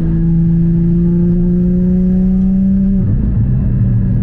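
A Porsche Cayman GT4 981 engine pulls hard through a gear with a loud, rising tonal drone, then a quick shift drops the pitch before it climbs again, heard close from inside the car.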